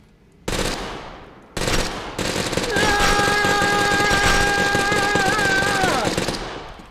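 Rapid gunfire bursts ring out at a shooting range in the video game Totally Accurate Battlegrounds, loud automatic volleys starting and stopping, then a sustained stream of shots with a rising whine over it.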